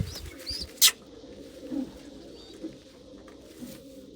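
Pigeons coo quietly in a low murmur, broken by one sharp loud click or snap and a few soft chirps and rustles, with no one speaking.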